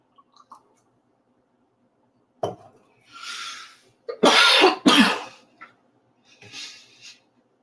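A person coughs and clears their throat a few times in separate bursts during a live cooking stream, close and fairly loud, with small clicks and quiet pauses between the coughs.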